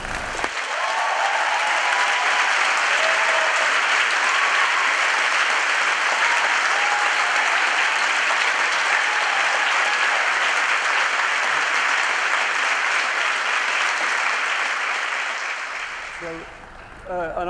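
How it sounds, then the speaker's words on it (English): An audience applauding in a hall, loud and sustained clapping from a large crowd that goes on for about sixteen seconds before fading out. "they should get a bit of applause for all the help"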